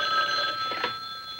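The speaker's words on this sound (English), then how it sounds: "Are you expecting a phone call?" A telephone bell rings with a steady electric trill of bright, sustained tones, fairly close and clear, with a faint soft bump partway through.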